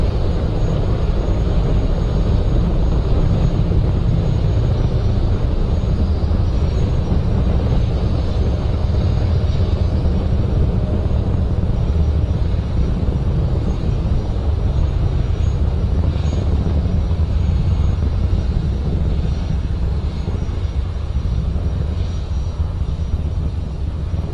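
A loud continuous rumbling roar of a SpaceX Falcon 9 rocket launching from Cape Canaveral, broad and steady with no breaks, filling the whole stretch like distant thunder that never stops.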